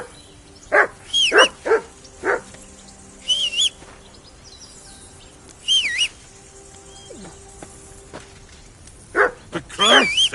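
Several sharp barks from a video game dog come in short clusters separated by quiet gaps, close and clear, with high chirping calls mixed in between.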